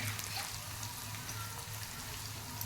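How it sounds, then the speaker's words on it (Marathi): Chopped onion and finely cut green chili fry in a pan for a capsicum bhaji, giving a steady soft sizzle with faint crackle throughout and no talk. "कांदा आता चांगला परतला गेलेला आहे"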